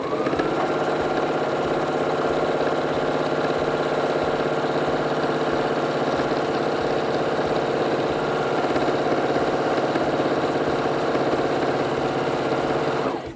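A sewing machine running at higher speed during free-motion quilting with metallic thread, giving a steady, continuous whir that stays loud and even throughout with no talking.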